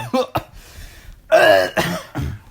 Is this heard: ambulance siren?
no